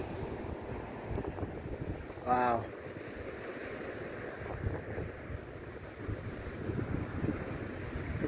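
Surf rolls steadily along the Pacific Ocean coast, a continuous wash of waves mixed with wind buffeting the microphone, with a brief sharper burst near the middle.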